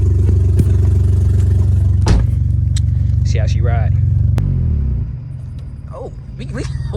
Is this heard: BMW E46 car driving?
yes